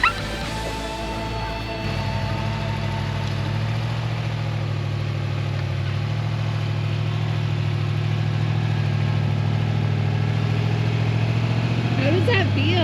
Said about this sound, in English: I feel like I'm in a tractor but a rock crawler.